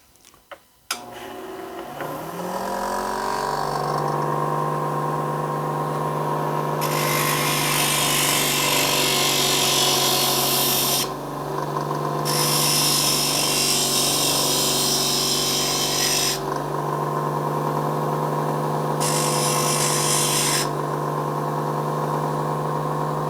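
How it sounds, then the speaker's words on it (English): A motorized flat lap grinder hums steadily while the end of a stained glass piece is ground flat, with a constant motor tone and intermittent loud hissing, scraping bursts as glass meets the disc. "Once the glue is set, I grind the end flat on my flat lap."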